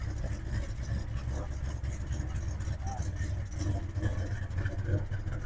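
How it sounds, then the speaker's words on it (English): A 1969 Chevrolet Camaro SS with a carbureted engine idles through a 2 1/4 inch exhaust, a low steady rumble heard at moderate distance and continuing throughout. "You can hear the performance kind of rumbling through that 2 1/4 inch exhaust."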